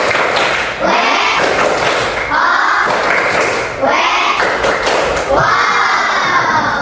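A school class in Indonesia performs the "Tepuk wow" clapping chant, with loud, rhythmic group claps and children shouting together in several bursts, close and lively.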